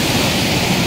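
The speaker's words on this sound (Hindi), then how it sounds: "देखिए कितने वेग से गिरता हुआ पानी" Canal water plunging with great force at the Chambal canal project, a loud, continuous broadband roar and rush of falling water filling the whole clip, close and steady with no talk.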